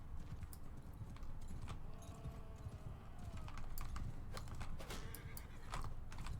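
Horse hooves clatter in the medieval battle game Mount and Blade: Bannerlord, where horses carry riders in combat. A busy, steady patter of hoofbeats runs under scattered sharp clicks and a faint whinny, with nobody speaking.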